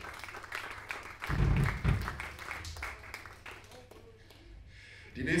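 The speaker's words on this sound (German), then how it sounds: "Dicken Applaus dafür." Audience applause at a rock band's club concert in Berlin, a crowd clapping and cheering that swells in bursts from mid-distance, mixed with room noise and some voices.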